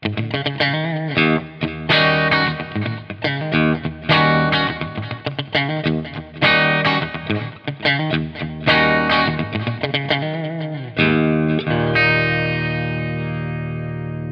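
Epiphone Les Paul Modern electric guitar on the bridge pickup with coil tap, played through an effects rig, chugging palm-muted chords and a riff ending on a ringing, sustained chord, loud and close with no voices.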